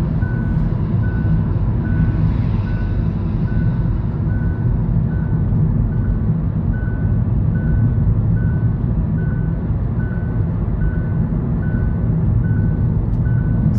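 A Hyundai Ioniq facelift's lane keeping assist warning sounds as a steady series of evenly spaced beeps over continuous road and engine rumble inside the moving car.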